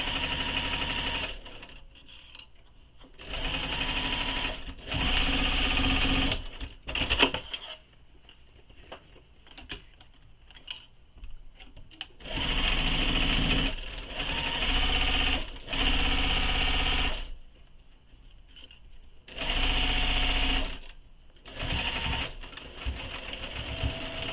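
A sewing machine stitches down the pocket of a fabric shoulder bag in several close, steady bursts of rapid whirring, separated by short pauses of quiet handling.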